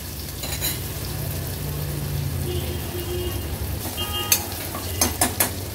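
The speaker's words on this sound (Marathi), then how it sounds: "गॅसची फ्लेम लो करून कांदा मी शिजवून घेते" Chopped onion sautéing in oil in a pan over a low gas flame, a steady soft sizzle with a few spatula scrapes and clinks toward the end.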